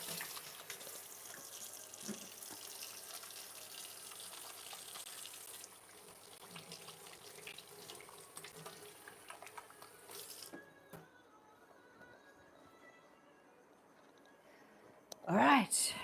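Water runs steadily from a kitchen sink tap while hands are washed, a soft continuous splashing that stops, followed by a brief louder clatter at the end.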